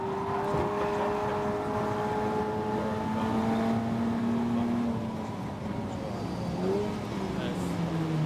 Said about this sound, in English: There's one of the Clio Cup cars across the line.